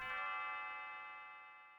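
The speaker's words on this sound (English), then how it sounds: "Bling, says Lean's Bell." Leene's Bell in the Chrono Trigger video game rings once, a clear bright chime struck at the start that sustains and slowly fades, heard alone.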